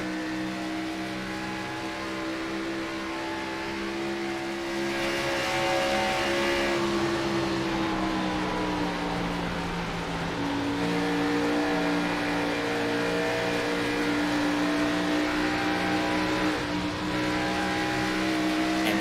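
Onboard engine of Blake Gordon's number 48 race car in the Integrity Ignite Series, a loud sustained engine drone whose pitch dips and climbs through gear changes and corners, with no talk over it.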